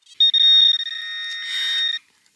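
A metal detector gives a loud electronic signal on a field in Poland, a sharp high tone that pulses briefly then holds steady for about two seconds before cutting off, with no talking.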